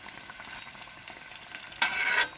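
Ridge gourd bajji deep frying in hot oil, a soft continuous bubbling sizzle with light stirring clicks and a louder burst of crackling near the end.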